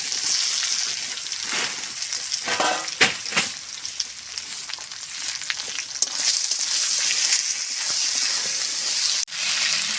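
Potatoes fry in hot oil with a panch phoron tempering while a Bengali bata fish curry is being cooked. A steady, loud sizzle runs throughout, with a few sharp clicks and clatters from the pan.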